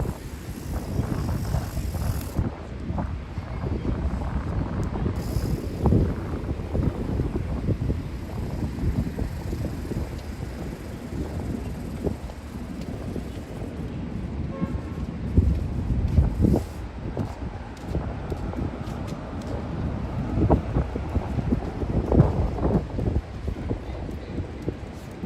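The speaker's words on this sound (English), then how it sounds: "Didn't expect all this wind." Strong gusty wind buffets a busy Midtown Manhattan street on the Upper East Side, rumbling steadily and loudly against the microphone for the whole stretch, with traffic and city noise mixed in underneath.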